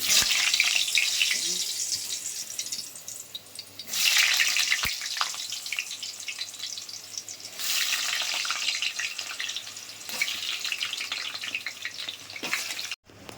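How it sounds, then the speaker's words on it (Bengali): Steady hissing sizzle of potatoes for mutton curry frying in oil, swelling and easing in waves over several seconds, close by. "এবার মাংসের আলুটা ভেজে নিই।"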